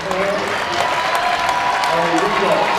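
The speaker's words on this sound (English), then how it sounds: "they get a round of applause from the crowd" A crowd at a girls and boys high school basketball game between Onalaska and Central applauds the departing Central starters, with steady, dense clapping throughout and a murmur of voices mixed in.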